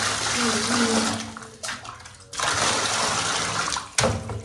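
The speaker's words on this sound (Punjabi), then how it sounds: "ਹੁਣ ਆਪਾਂ ਪਾਣੀ ਲਗਾਇਆ ਆ ਨਹਾਉਣ ਵਾਸਤੇ" Water runs from a tap to fill a bath in a home bathroom, a steady broadband rush with brief dips and restarts, close and loud, with no talk.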